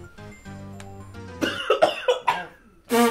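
During a tabletop Dungeons & Dragons session, a person coughs several times in a quick close burst, rough and loud, then clears their throat after a brief pause.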